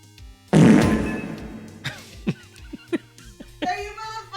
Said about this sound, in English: Thank you for the fart!